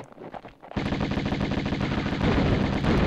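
Gunfire in Tomb Raider: after a short quiet moment, a loud, rapid stream of automatic shots rattles on without a break to the end, close and dense.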